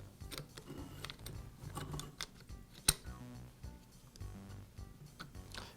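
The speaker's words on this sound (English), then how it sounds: "I'll rotate the flywheel around until the bearing aligns with the attachment point." A Bostitch air compressor flywheel turned slowly by hand during connecting rod replacement, giving a run of close, quiet mechanical ticks and clicks with one sharper knock partway through.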